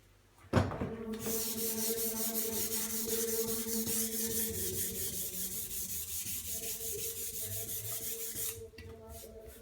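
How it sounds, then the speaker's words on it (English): Sandpaper is rubbed back and forth over a guitar fretboard after coarse 60-grit work, making a close, steady, rhythmic rasping that starts with a knock and runs for several seconds before stopping. "Now I'm just going up through the grades of sandpaper to take out the big scratches from the 60 grit block"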